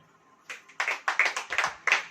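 A church congregation claps during a sermon, about seven quick, fairly even bursts of hand claps in a row, close and clear against a quiet background.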